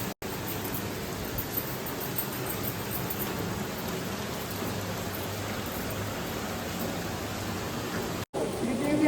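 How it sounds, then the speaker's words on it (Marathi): Heavy rain pours down steadily outside a Konkan home, a dense, even hiss that persists throughout, with faint voices in the background. "पाऊस धूम चालू झालाय परत"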